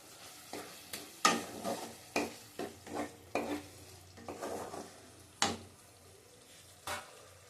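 Cut capsicum tossed into a hot pan, with repeated sharp utensil scrapes and clatters against the pan over a steady sizzle of frying, in irregular strokes about every half second to a second, close and fairly loud with no talking.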